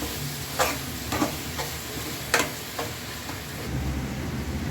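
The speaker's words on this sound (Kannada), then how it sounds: "ಗರಂ ಮಸಾಲ ಹಾಕಿ ನೀಟಾಗಿ ಚೆನ್ನಾಗಿ ಕಲಿಸಿ." Rice with garam masala stirred in a pan for motte rice, several spaced scraping strokes of a spoon over a low, steady sizzle, close and fairly clear.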